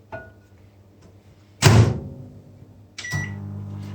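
A microwave oven is used to soften a chocolate sandwich: its door thunks shut loudly, a faint hum follows, then a beep sounds and the oven starts a steady running drone.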